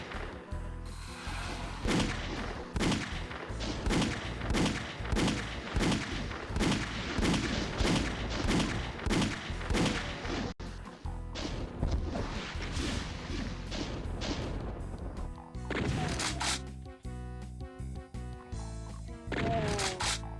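Gunfire in the video game DooM: a rapid, relentless string of sharp, loud shots with heavy low-end impacts for most of the stretch, easing into sparser blasts and clatter near the end.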